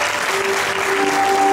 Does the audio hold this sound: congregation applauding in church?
yes